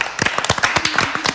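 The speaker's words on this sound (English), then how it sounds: "We just clapped." A studio audience applauding, heard as a dense, close run of rapid claps that continues steadily throughout.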